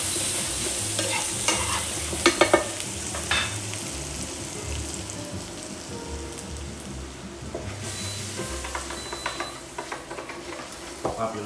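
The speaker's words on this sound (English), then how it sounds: "In with the butter here. This is just going to help foam and give a real sort of nice even colour." Butter sizzles and foams in a hot frying pan while wild garlic is being cooked, a steady crackling hiss with small pops, close and fairly quiet, with no talking.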